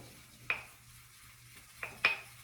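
A shaving brush working lather in a small bowl taps against its sides: a quiet single knock, then two quick clinks close together, faint and near with no talk.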